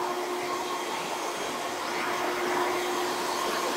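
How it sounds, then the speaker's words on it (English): A hair dryer blows steadily throughout while drying hair during a haircut, a constant close whooshing roar with a faint whine and no voices. "Blow dry it all the way over."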